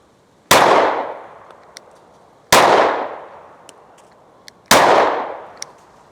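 PSA Micro Dagger pistol fed from an OEM Glock magazine: three loud, sharp shots spaced about two seconds apart, each with a long ringing decay, close and alone.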